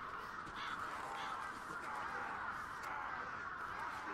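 Ravens cawing in the Bullet Witch video game, a dense flock of harsh rasping calls overlapping continuously at steady loudness, sounding like a panicked swarm filling the scene.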